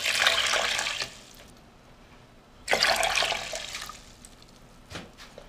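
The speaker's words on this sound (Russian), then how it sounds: "Залейте водой." Water pours into a cooking pot of green lentils for a soup, two broad splashing bursts a few seconds apart with a quieter trickle between and a brief splash at the end, no talking.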